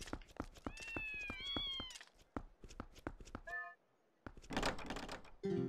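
Several cartoonish cat meows from the video game Twilight Princess ring out over a busy game soundscape of thumps and footsteps, with a brief pause before more clattering.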